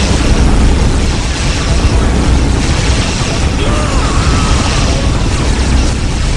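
Core overload explosion in the video game Warhammer 40,000: Dark Crusade, a loud and continuous roaring blast lasting the whole stretch with dense rumble and crackle.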